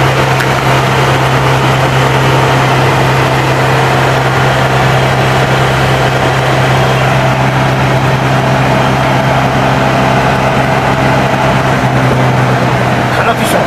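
An old car's engine runs loud and steady with a constant low hum while coasting gently downhill, steady wind and road noise throughout and someone talking over it at times.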